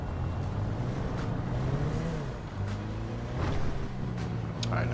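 A car drives along with its engine running steadily and rumbling low under occasional talk, rising briefly as it accelerates.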